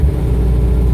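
An old British car engine rumbles loudly and steadily at close range, idling after a hard start on a cold, snowy day.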